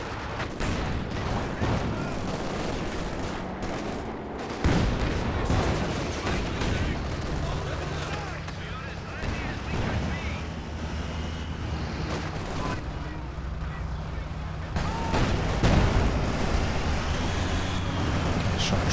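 Katyusha rocket artillery barrage in Company of Heroes 2, a string of booming explosions and gunfire crackle over rumbling battle noise, with a commentator talking throughout.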